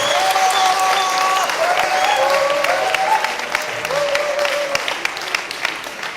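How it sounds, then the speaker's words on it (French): An audience applauds at a formal ceremony, a steady roar of many hands clapping together that eases slightly toward the end, with faint voices beneath. "Acclamez quand même pour eux"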